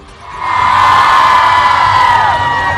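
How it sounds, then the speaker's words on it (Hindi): Large crowd of women at a political rally cheering loudly, rising within half a second into a sustained roar of high shouts and whoops. "इनके लिए पहले भरपूर तालियां।"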